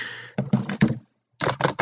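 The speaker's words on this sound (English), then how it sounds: "No, that's the sound of their little feetsies." Little feet of toy characters marching, heard as quick, dry pattering taps in two short bursts separated by a brief pause.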